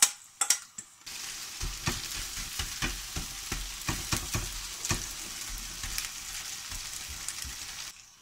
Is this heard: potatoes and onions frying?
yes